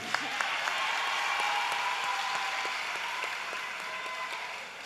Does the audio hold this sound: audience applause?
yes